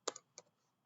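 A few sparse clicks of typing on a computer keyboard while entering a network address in a Huawei eNSP network simulator, with three separate keystrokes spread over a short, quiet stretch.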